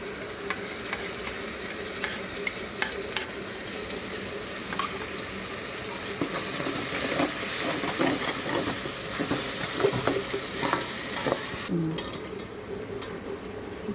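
Yogurt is stirred into frying chicken pulao masala, a steady close sizzle with scattered scraping and clinking of a spoon against the pot, continuing without speech.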